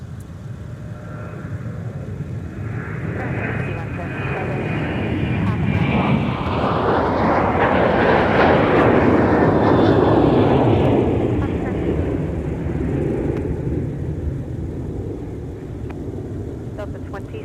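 An airliner passes at Minneapolis–Saint Paul airport, its jet roar swelling from a distant rumble to a loud peak midway and then fading, with faint voices heard under the engine noise.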